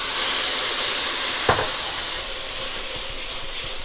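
Loud steady hiss of port wine and soy sauce sizzling in a hot wok with garlic, a brief sharp spatter as the liquid hits, then continuous bubbling sizzle.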